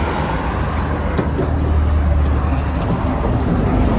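A car drives along the hill road to Mahabaleshwar with a steady, close engine drone and road rumble throughout, no talk over it.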